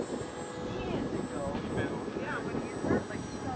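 A Cessna 182 Plus 1200mm EPO RC plane with severe vibrations passes close by under throttle, a steady buzzing motor drone with a rising whine, moderately loud outdoors against wind.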